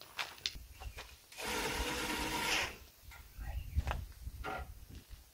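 A power driver sinks self-tapping screws to mount a solar panel on a deer feeder, a steady whirring run of about a second and a half followed by shorter bursts and clicks, fairly quiet and close.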